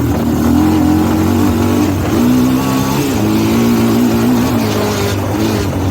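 A loud, steady Honda TRX400EX ATV engine drone with a whining bad wheel bearing noise that wavers in pitch, only on deceleration, heard up close throughout.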